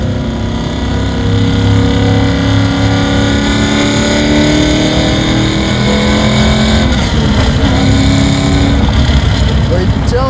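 A 1968 Camaro muscle car, garage-built, revs hard while accelerating, its loud, rough engine note climbing steadily from close by with a constant throaty rumble throughout.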